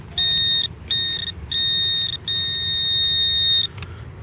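Metal detector pin-pointer giving close, steady high-pitched electronic beeps: four tones separated by short gaps, the last held longest, with low rumbling background noise.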